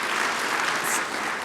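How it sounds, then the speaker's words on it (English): Steady audience applause at a spring research-center directors' meeting, a dense, even wash of clapping from the seated crowd without a break. "So a huge round of applause to Bud for keeping this going."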